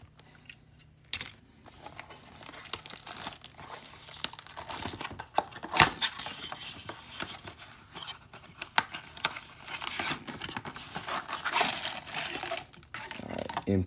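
Topps Series 2 baseball card packs from a 2021 blaster box being ripped open, a steady run of close crinkling, crackling foil and paper tearing with scattered sharp snaps and rustles, no talking.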